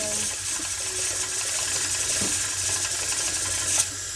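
Running water hisses steadily into a kitchen sink while a sticky pan is washed, with small knocks and scrapes of the pan, close and continuous, and no talking.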